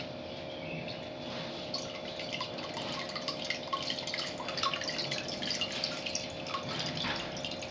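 Milk dripping steadily through a strainer while being filtered for Tirunelveli halwa, a continuous soft trickle with scattered drips, close and fairly quiet, no talking.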